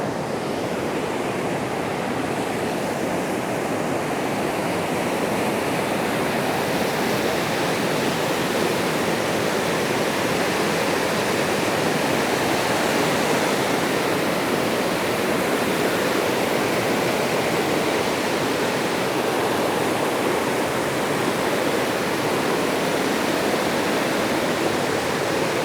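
Ousel Falls in Big Sky, Montana pours in a constant, dense rushing roar, a steady full wash of falling water that holds unchanged the whole time with no voices.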